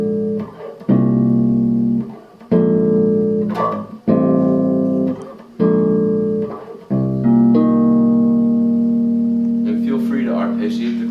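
Chords played on a bass guitar, minor seventh and major seventh voicings with the notes fretted and struck together, five sustained strums in a steady sequence, the last ringing out longest, clear and close with no talking.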